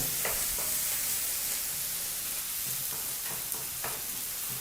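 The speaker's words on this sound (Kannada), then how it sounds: "1 ಈರುಳ್ಳಿನ ಹಾಕಿ 2 ನಿಮಿಷಗಳ ಕಾಲ ಮೀಡಿಯಂ ಫ್ಲೇಮಲ್ಲಿ ಈರುಳ್ಳಿನ ಚೆನ್ನಾಗಿ ಫ್ರೈ ಮಾಡ್ಕೋಬೇಕು" A single onion fries in oil over a medium flame for green pea chitranna, producing a continuous dense sizzle with occasional soft stirring scrapes, close and alone.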